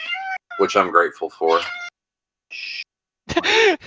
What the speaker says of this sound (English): Yeah, that's my cat. She is very loud and vocal.